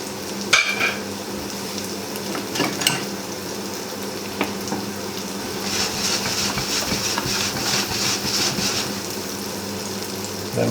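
Ingredients for stir-fried greens toast in a hot pan with a steady close sizzle and crackle, broken by occasional scrapes and stirring clatters.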